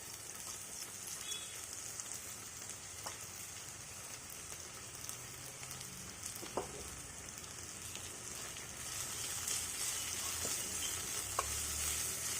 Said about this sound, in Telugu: అల్లం వెల్లుల్లి పేస్ట్ కూడా బాగా ఫ్రై అవ్వాలి.